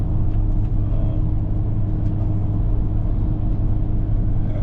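An Alfa Romeo with its muffler and resonator removed idles or cruises with a deep, constant exhaust rumble, loud and close throughout, with no talking.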